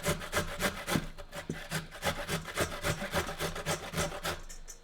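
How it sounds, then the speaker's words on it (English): Cabbage being grated by hand for coleslaw, a close, rhythmic scraping of repeated rasping strokes, roughly two a second, with no talking over it. "Alright, so we're grating our coleslaw here."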